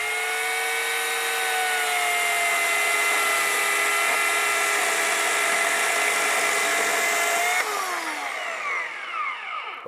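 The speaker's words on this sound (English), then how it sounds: "this is the first time I've used a chainsaw to carve" A chainsaw carving a block of wood runs at a steady high-revving whine that holds loud and constant for most of the stretch, then the pitch drops and wavers as the cut eases off near the end.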